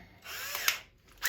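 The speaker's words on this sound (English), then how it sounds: "now I'm going to pre-drill about 3/4 of an inch in." A power drill pre-drills a hole about three quarters of an inch into a wooden door for a replacement kitchen or bathroom cabinet, a close, high whine surging in two short bursts.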